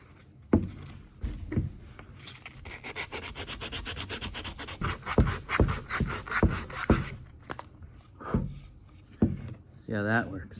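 A wooden walking cane is sanded by hand with 120-grit sandpaper, giving close, repeated rhythmic rubbing strokes that speed up into quick back-and-forth scratches, with a brief voice near the end.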